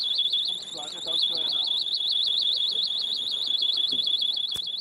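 A pocket personal alarm shrills with a loud, warbling, rapidly pulsing high tone that runs steadily throughout, with faint voices beneath it.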